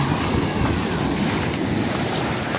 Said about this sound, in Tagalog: Ay, lakas ang alon eh.